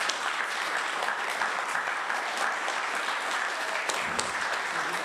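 A concert audience applauds at a steady moderate level, a dense rattle of many hands that carries on unbroken without any talk.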